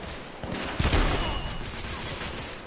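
Rifle gunfire in the video game The Order: 1886, a rapid volley of shots with a heavier blast near the middle, dense and continuous amid battle noise.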